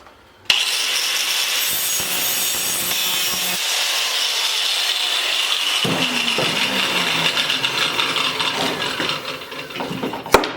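Continuous rasping hand-saw strokes cutting through a thick-walled pipe, steady and close, with a clunk near the start and another at the end.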